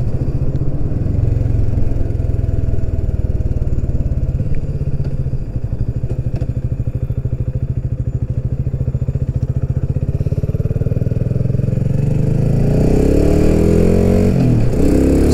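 A BSA Goldstar 650 single-cylinder motorcycle throbs steadily while being ridden, its engine pulsing loud and close before climbing in pitch as it revs harder near the end.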